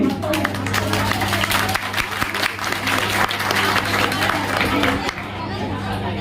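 Audience applause at a Bengali-language gathering, dense steady clapping with crowd murmur filling the full stretch before thinning slightly near the end.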